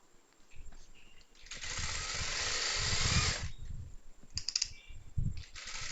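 A sewing machine runs steadily while stitching the side seam of a churidar, one continuous whirring run of about two seconds with shorter bursts and pauses on either side.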